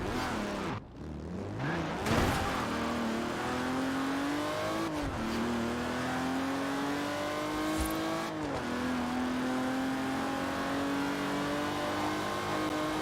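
Steady car engine drone in Forza Horizon 4, racing British cars such as Aston Martin, McLaren and Bentley, with pitch rising through gear shifts and a few brief dips as it accelerates, loud and continuous throughout.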